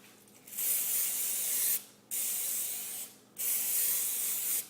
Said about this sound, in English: You really need to spray your pan or the inside of your loaf pan with a nonstick spray.